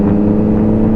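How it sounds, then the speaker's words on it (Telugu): A superbike with a full exhaust system and a stock, unremapped tune idles and burbles loudly close by in one brief, steady growl, alone with no voices. "సౌండ్ ఉంటుంది, క్రాకల్ సౌండ్"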